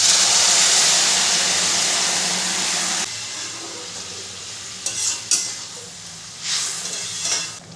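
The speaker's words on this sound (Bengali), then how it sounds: "বেগুনটা দিয়ে ভালো করে মিশিয়ে নেব।" Fried eggplant being stirred into a cooked spice masala in a pan for Bengali khoira fish curry, with steady loud sizzling and frying hiss and a few scraping spoon strokes near the end.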